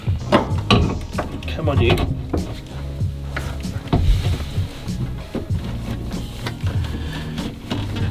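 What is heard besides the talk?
fitting VW T3 steering column halves together on locating pins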